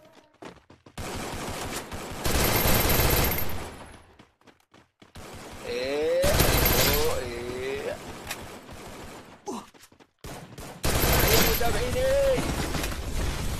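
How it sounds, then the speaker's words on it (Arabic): Repeated bursts of heavy bombardment in a shooter video game: loud stretches of explosions and rapid gunfire separated by short quiet gaps, with a voice shouting at times between and over the blasts. "قصف يا شباب راح تموتوا من القصف انتوا"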